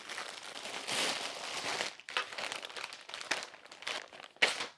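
A plastic bag from a return package is handled and crinkled up close, in several bursts of crackling rustle with short pauses between them, fairly quiet overall.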